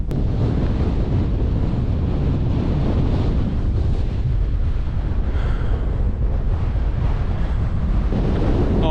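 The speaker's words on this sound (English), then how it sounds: "I don't know if you can hear me because it's quite windy up here" Strong, constant wind buffets the microphone on an exposed hilltop in the cold, making a loud, dense rushing roar throughout with no talk.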